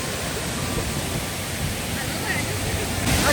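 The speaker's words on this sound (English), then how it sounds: "Anthony and Zach, they are under the waterfall and it's flying back." A waterfall roars as broad, constant rushing water close to the microphone, filling the scene with dense noise that hides the voices in the background.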